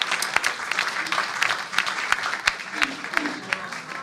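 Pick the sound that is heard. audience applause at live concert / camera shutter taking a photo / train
audience applause at live concert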